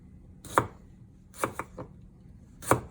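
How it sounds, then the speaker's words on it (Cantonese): Fresh ginger sliced with a knife on a cutting board: four sharp close chops, a single stroke, then a quick pair, then another single after a pause, with quiet room tone between. "跟住就薑啊切片啦"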